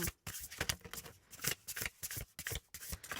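Tarot cards riffled and shuffled by hand in quick bursts of crisp papery flutter and slaps, with a few cards dropping, close and fairly quiet, no talk.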